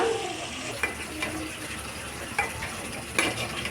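Eggplant pieces fry in a pan while being stirred for a Telugu curry, giving a continuous close sizzle with occasional scraping clinks of the spoon against the pan.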